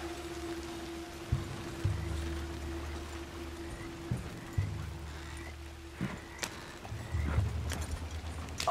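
Horse hooves clip-clop in an uneven trot through Red Dead Redemption II, with a few separate heavy thuds over a low rumbling ambience and light rain.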